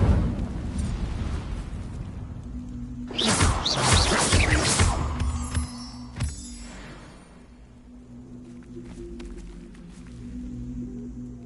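Incendio fire spell cast in Hogwarts Legacy: a sudden fiery whoosh and burst erupts loudly partway through, then tails off into a quieter rumbling game ambience with a few later sharp hits.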